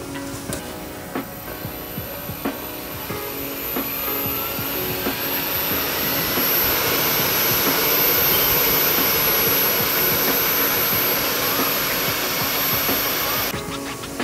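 A CWT low speed balancer spins a turbo rotating assembly up to 4,000 RPM, a close, steady whirring whine that rises and holds with a faint high tone over a mechanical hum before winding down.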